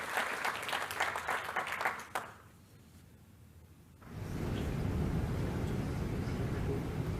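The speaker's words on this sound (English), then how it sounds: "So please clap it up for our retirees within the last 2 years." Audience applause for retiring Hillside Township employees at a State of the Township address: loud, dense clapping for about two seconds, a brief quiet lull, then a broad wash of crowd noise swelling back up.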